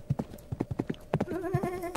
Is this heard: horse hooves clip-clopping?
yes